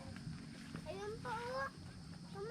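Gamefowl chickens in a breeder's pen give a few faint, short squawking calls over quiet background noise.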